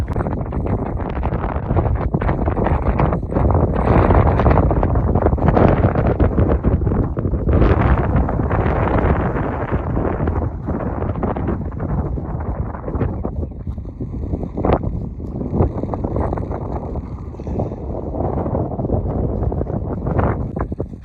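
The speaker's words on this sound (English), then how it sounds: "I'm blown away, like almost literally, because it's so windy." Strong wind on a mountaintop on the Appalachian Trail buffets and roars across the microphone without letup, a loud rushing blast that swells and eases slightly.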